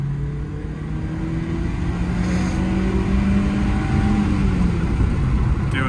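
A manual Mini Cooper on a test drive pulls forward under acceleration, its engine drone rising steadily in pitch inside the cabin with road rumble underneath, loud and continuous; no talking.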